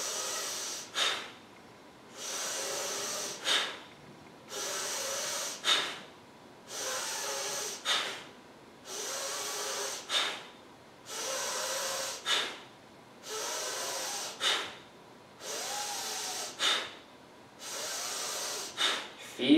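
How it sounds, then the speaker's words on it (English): Rhythmic pranayama breath control during a yoga session, forceful pump-like inhales and exhales repeating about every two seconds, breathy and close, with a voice quietly guiding along. "Like a pump. Inhale, exhale, inhale, exhale, inhale,"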